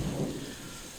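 Rain falls steadily in a laneway on a wet spring day, a soft, diffuse patter with a low rumble at the start that fades to an even wash.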